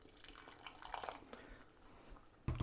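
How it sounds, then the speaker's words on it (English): Water poured in a small splash into simmering cottage pie mince with stock, a faint trickling and bubbling close by, ending with a sudden louder clatter. "Just going to add another little splash of this water."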